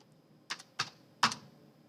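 A few quick keystrokes on a computer keyboard, three or four close, crisp clicks in an irregular burst over quiet room tone.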